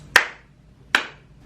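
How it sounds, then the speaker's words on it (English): Two sharp, single hand claps ring out about three-quarters of a second apart, each close and crisp with a short decay, separated by near silence. "And then we clap our hands."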